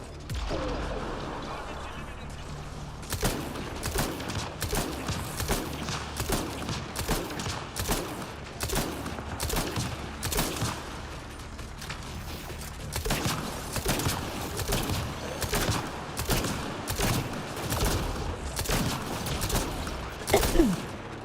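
A hacked turret in Mass Effect Andromeda fires a long run of sharp, rapid shots, dense bursts with brief gaps, loud and close over a busy battle background.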